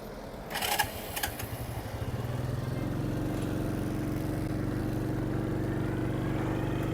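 A 50cc semi-automatic motorbike pulls away in second gear while being ridden in Vietnam, a buzzing small-engine drone that rises and then holds steady and close, after a few clicks and knocks at the start.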